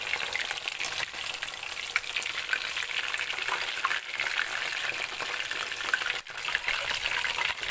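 Chicken pieces fry in hot oil with a constant crackling sizzle, close and busy, with occasional stirring bumps breaking the hiss.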